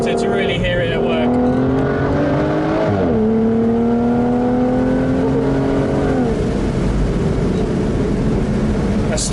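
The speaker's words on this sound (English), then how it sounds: "Sport button engage means you get all the extra exhaust note, we'll hold it in second through this canyon" Aston Martin Vanquish Volante V12 held in second gear with its sport exhaust mode engaged, echoing through a canyon: a loud, sustained roar that climbs steadily, dips at a brief lift, then rises again.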